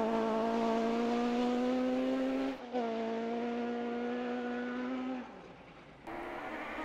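An M-Sport rally car on a stage holds a loud, steady high-revving engine note, with a brief dip around a gear change and then a drop in pitch as the revs fall near the end.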